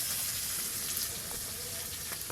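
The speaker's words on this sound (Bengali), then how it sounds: "তাই প্রথমে চিংড়ি মাছগুলো ভেজে নেব।" Prawns fry in hot oil in a pan, a steady broad sizzle with faint crackles and spits running at a constant level throughout.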